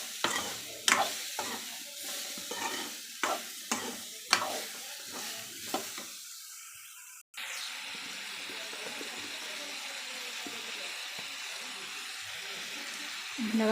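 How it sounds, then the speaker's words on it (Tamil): Garlic sizzles and is stirred with bitter gourd in a frying pan: a spoon scrapes and clinks several times against the pan, then a loud, steady hiss of frying takes over for the rest of the clip. "வச்சிருக்கிற பூண்டை இதிலே சேர்த்திக்கலாம். நல்லா இப்படி கிளறிக்கிட்டே இருக்கலாம்."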